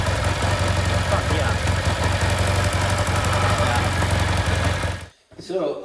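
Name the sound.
1953 Triumph Thunderbird motorcycle engine idling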